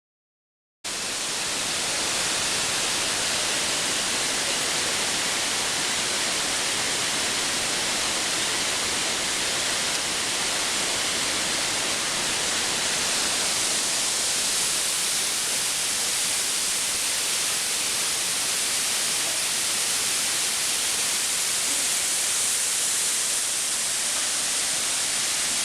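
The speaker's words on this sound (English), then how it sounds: "The water twisted and turned over the rocks, splashing all over them." Mountain river on the trail from Bahundanda to Chamje in Nepal, water rushing and splashing over rocks in a dense, continuous roar that stays steady and close throughout.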